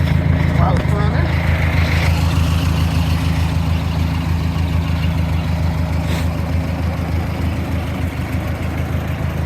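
A Ford 620 tractor fitted with a Sherman forklift idles steadily nearby, its low engine rumble chugging evenly throughout while a person talks over it.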